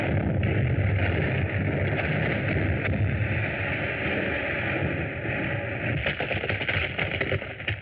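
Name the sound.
underground explosion sound effect in radio serial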